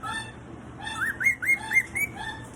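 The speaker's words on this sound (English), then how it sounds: "What are you saying there, Mr. Squawker?" A pet cockatoo vocalizing at snack time, a short run of close whistled, warbling chirps rising and falling in quick bursts, clear and alone.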